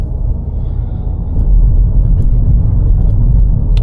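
A car drives slowly in second gear through a road tunnel, a steady low engine and road rumble that swells slightly louder partway through, with no talk.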